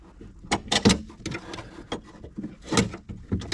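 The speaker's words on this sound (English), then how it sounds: "What I did was just move the window up to rotate the mechanism to where I can get it on the bolts." Car window regulator mechanism with plastic gears turning as the window is raised, producing soft, uneven plastic clicks and knocks up close at a quiet level.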